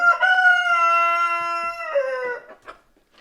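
An American Bresse rooster lets out one loud, close, drawn-out crow inside a dim coop, tailing off into a few soft clucks.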